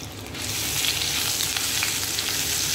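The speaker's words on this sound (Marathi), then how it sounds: "हे असं तेल गरम झालं, यामध्ये मी अद्रक लसणाचं पेस्ट घालते" Ginger garlic paste hits hot oil for chicken pasta and bursts into a loud, close sizzle after a brief quiet start, then fries on in a steady hiss.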